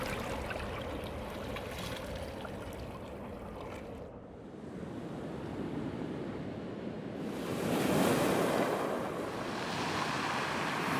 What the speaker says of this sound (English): The waves are a lot rowdier now than they were yesterday.